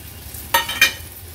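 Potato pieces hitting a hot oil tempering in a pan, with two quick bursts of sizzle and scrape about a quarter second apart over a low background hum, close and brief.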